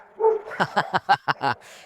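A dog barks in a quick run of about seven sharp yaps, close by and loud.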